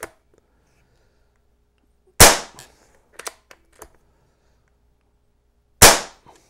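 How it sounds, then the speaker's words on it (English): Two sharp, loud shots from a BSA Gold Star airgun a few seconds apart, with a quick series of metallic clicks and clacks from the bolt being worked between them, in an otherwise quiet setting. "gently squeeze the trigger. To fire again, simply work the bolt."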